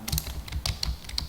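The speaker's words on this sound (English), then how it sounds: "I told you I'm typing inside dark." Quick bursts of typing on a computer keyboard while writing a simple Java program, a close, uneven patter of key clicks lasting just over a second with no talking.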